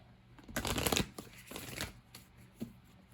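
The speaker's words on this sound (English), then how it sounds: "let me get some cards from the Major Arcana" Tarot cards from the Major Arcana are shuffled and handled up close, two rustling bursts of riffling followed by a lighter flutter and a soft tap, with no talking.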